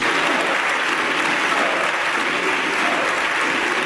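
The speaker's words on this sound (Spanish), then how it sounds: "Aplausos desde la bancada socialista" Sustained applause rises from the Socialist benches of the Spanish parliament, a dense, steady wash of many hands clapping at once that continues evenly throughout without any break.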